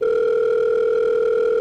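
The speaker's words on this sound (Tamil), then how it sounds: "ஸோ இப்போ நம்ம ஃபோன் பண்ணி சொல்லிடுவோம்." A steady, unbroken phone dial tone hums loud and clean as a call is placed in GTA 5, with no other sounds around it.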